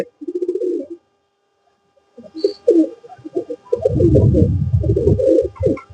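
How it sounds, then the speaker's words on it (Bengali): Pigeons coo in low, throaty bursts, close by, with a short pause and then a louder overlapping run of cooing and fluttery rumbling. "এই কবুতরগুলো সর্বাধিক জনপ্রিয় কবুতর এখন ওয়ার্ল্ডে"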